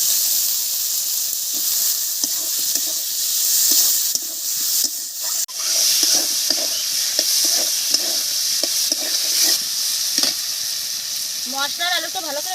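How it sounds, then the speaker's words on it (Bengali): Cut potatoes fry with turmeric and salt for a village-style shol fish curry, a constant loud sizzle broken by repeated clicks and scrapes of a spoon stirring the pan. "মশলার আলুটা ভালো করে ভাজা হয়ে গেছে"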